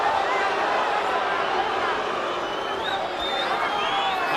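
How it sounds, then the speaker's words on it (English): Boxing crowd at a Pacquiao vs Marquez fight erupts in a sustained, loud roar of booing and shouting that fills the arena evenly for several seconds. "Pacquiao fans booing because they thought the punch was low"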